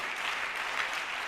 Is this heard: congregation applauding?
yes